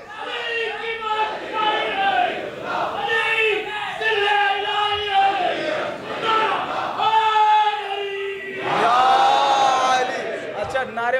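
A large crowd at a majlis in Bangalore chants religious slogans in unison, many voices rising together in loud, sustained waves that swell and fall, with a final strong burst near the end.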